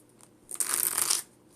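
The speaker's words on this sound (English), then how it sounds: "Going to shuffle them" A quick riffle of Pokémon trading cards being shuffled, a soft papery burst lasting about half a second, close by with no talking.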